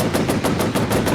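Rapid machine gun fire from a P-51 plane in the Pacific air combat game Warplanes, a steady burst of evenly spaced loud shots rattling continuously throughout.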